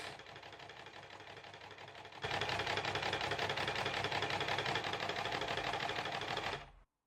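A sewing machine stitching down pillowcase seams, starting with a softer hum then jumping to a louder, fast, steady mechanical whirr of needle strokes that runs for several seconds before stopping abruptly, close and without talking.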